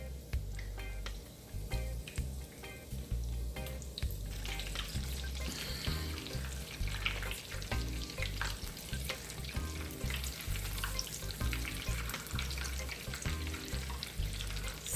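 Cheese sticks frying in a pan of hot oil give a continuous close crackle and sizzle with bursts of popping and bubbling throughout, moderately loud, with no voices.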